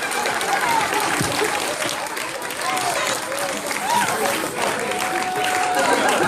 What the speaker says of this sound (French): on les applaudit très,